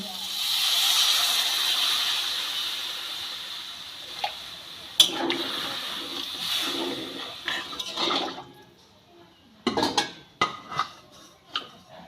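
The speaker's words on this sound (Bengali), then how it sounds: "মশলা দিয়ে আলুটাকে খুব ভালো করে কষিয়ে নিয়েছি এবার জল দিয়ে দেবো" Water is poured onto potatoes frying in spices in a pan, a loud sustained hiss that fades over several seconds, followed by scattered clinks and knocks of utensils against the cookware.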